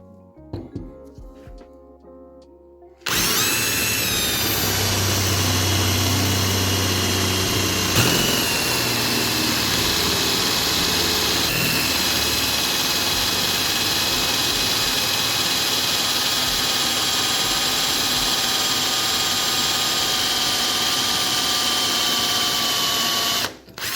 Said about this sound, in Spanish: Vamos a hacer una prueba de corte con una broca de cobalto y vemos cómo funciona